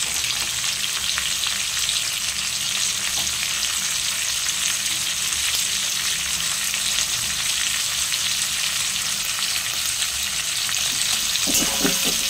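Chopped onions fry in a pan for a chicken dish, making a loud, continuous, close sizzle that stays even throughout, with faint stirring underneath.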